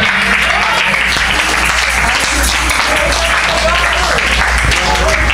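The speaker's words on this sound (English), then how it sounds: "Clap your hands and praise the Lord" A church congregation claps during worship at an Apostolic house of prayer in Brooklyn, a loud, steady wash of many hands over a low hum, with voices mixed in throughout.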